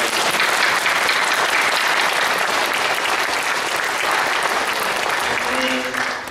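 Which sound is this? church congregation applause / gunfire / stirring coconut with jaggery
church congregation applause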